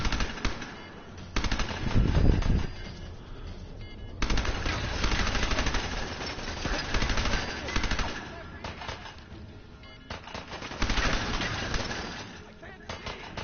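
Gunfire in the video game Fallout 4, dense bursts of automatic shooting that come and go in several loud waves across the clip, with game sound in the background.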